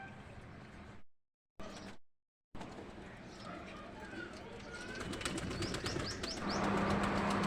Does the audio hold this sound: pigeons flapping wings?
yes